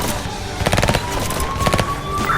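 Rapid gunfire in the Crisis Manager video game comes in two quick automatic bursts of sharp cracks, fairly close, over a thin steady background tone.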